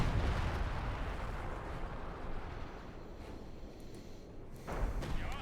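Artillery bombardment in the strategy game Company of Heroes 2 booms out as rumbling explosions, with a dense burst at the start settling into continuous low roar, fairly faint overall.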